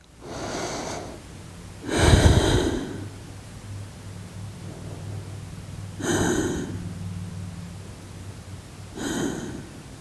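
Slow, audible breaths during a neck stretch, a few distinct airy inhales and exhales spaced several seconds apart against a faint steady hum, close and fairly soft, with no speech.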